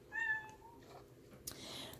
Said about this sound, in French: Merci le chat de venir miauler.